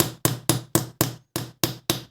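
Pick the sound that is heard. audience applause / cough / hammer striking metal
hammer striking metal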